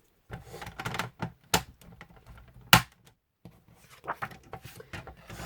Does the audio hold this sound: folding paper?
yes